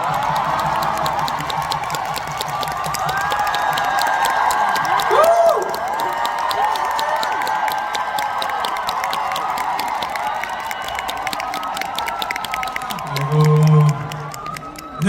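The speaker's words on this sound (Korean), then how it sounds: "뜨거운 박수로 맞이해 주시기 바라겠습니다." Audience at a 2016 Lee Junho fan meeting applauding and cheering as the MC comes on, a sustained crowd roar with clapping and shrill whoops, swelling near the end.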